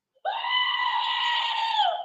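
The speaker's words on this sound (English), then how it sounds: "Warning, screaming goat." A goat lets out one loud, sustained, human-like scream lasting nearly two seconds, with no other sound around it.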